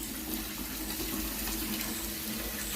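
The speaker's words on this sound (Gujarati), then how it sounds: "આ પાણી ભરીને લાવું છું." A tap runs steadily into a container being filled at home, a continuous, fairly faint rush of falling water with no break.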